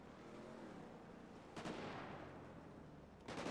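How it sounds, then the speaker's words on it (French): Gunfire in the video game GTA V during a bank robbery, heard as two short, sharp bursts of shots over a dull background rumble. No one speaks during the shots. "Tu vois la rafale?"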